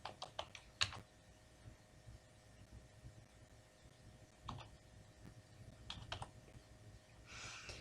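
An ID number is typed on a computer keyboard in sparse, faint clicks and small bursts of keystrokes, with quiet gaps between them against a low background hiss.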